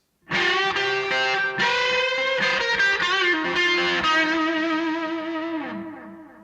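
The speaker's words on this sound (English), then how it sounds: "After the overdrives, I have a vintage Ibanez AD80 analog delay, operated on 18 volts." An electric guitar through a 1979–80 Ibanez AD80 analog delay pedal run at 18 volts plays sustained, slightly gritty chords with repeating echoes trailing behind each note, fading out at the end; no voices.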